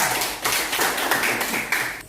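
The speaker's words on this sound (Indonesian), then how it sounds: "tepuk tangan untuk kelompok 4." Classroom applause for a student group after its presentation on computer hardware: a dense, steady patter of many hands clapping together for about two seconds, fairly close, with no talking.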